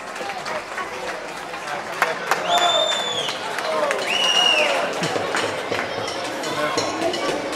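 Crowd applause at a village end-of-festivities night in Azagra, Spain, for the year's first-prize winners, a steady wash of clapping with cheers and whistles rising through it and voices talking over parts.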